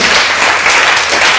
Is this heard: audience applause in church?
yes